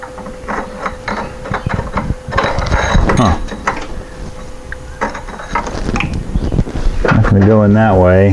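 Tool work on a Porsche 912 engine during reassembly: irregular metallic ratcheting and clinking as a nut is tightened, close and moderately loud, with a voice talking over parts of it.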